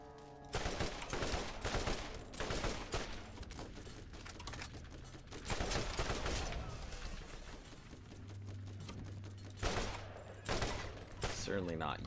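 Gunfire in Borderlands, dense rattling bursts of automatic weapons firing in rapid succession throughout, loud and close, with game effects and a low hum underneath.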